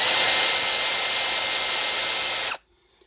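A Bosch 12V power tool running on a PowerExtra replacement battery whines at a steady high pitch, close and loud, for about two and a half seconds before cutting off abruptly into near silence.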